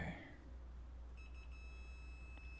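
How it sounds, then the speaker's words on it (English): A single thin electronic tone from a radio being spliced in a garage starts partway through and holds steadily over a low background hum, fairly faint, with no talk. "There's a beep."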